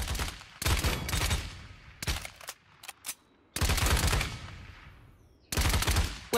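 The Barrage ultimate ability in Paladins: Champions of the Realm fires loud, dense bursts of rapid gunfire, several volleys separated by short gaps and brief single shots.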